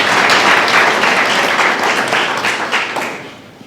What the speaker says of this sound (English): I think we deserve a clap for that.